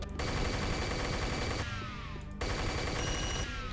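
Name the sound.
minigun firing in Unreal video game remaster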